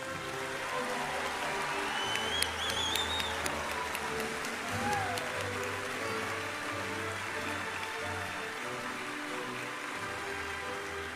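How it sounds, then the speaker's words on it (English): At a middle school awards night, the audience applauds the award recipients with a soft, even wash of clapping heard from a distance, sustained for about eleven seconds over a low room hum. "And now we'll applaud all of our recipients."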